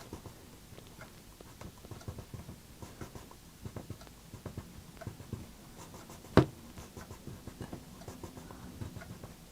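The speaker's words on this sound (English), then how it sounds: "I'm going to write the word in green" A grass green colored pencil writes a word on paper in a Halloween coloring session, giving a faint, steady scratching with small irregular strokes and one sharp tap partway through.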